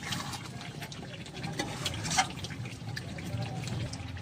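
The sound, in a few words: adding hot water to cooking chicken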